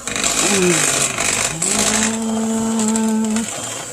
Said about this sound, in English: Mix in that second jar of peanut butter.